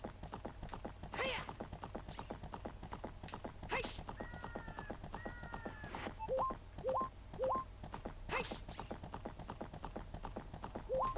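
Epona, the horse in The Legend of Zelda: Ocarina of Time, gallops in a steady, rhythmic clip-clop with occasional whinnies and game chimes, while someone talks over it.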